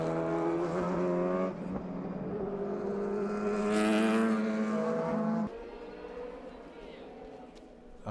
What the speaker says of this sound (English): now we have KCMG coming right past the 26 car, the Porsche of Team Taisan Ken Endless